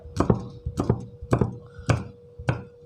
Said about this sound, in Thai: หั่นซอยประมาณนี้ครับ